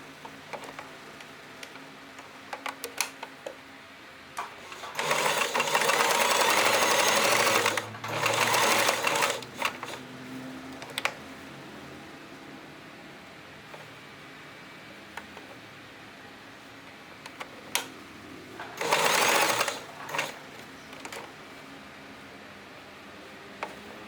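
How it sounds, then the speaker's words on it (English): A sewing machine stitches a turban hat in two or three runs of fast, loud, steady mechanical whirring, broken by clicks and handling ticks during the pauses. "Let's take this to the sewing machine."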